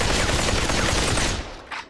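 Rapid automatic gunfire from the VR shooter game Population: One, a dense continuous burst of loud shots in close-range combat that stops abruptly near the end.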